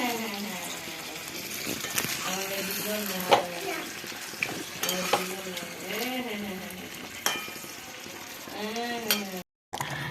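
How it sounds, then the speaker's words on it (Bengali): Mutton curry gravy bubbling and sizzling in a pot on the stove, a steady close simmer with occasional stirring scrapes, while a voice talks over it in short phrases. "এখন ঝোল ফুটছে খাসি মাংসের ঝোল"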